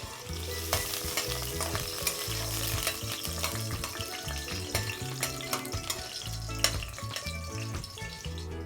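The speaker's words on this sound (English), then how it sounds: "fry up a little garlic, but the garlic mustn't get black" Garlic fries in a pot in a home kitchen in Paramin, Trinidad, with a continuous close sizzle broken by scraping stirs and clinks of the spoon against the pot, and no one speaking.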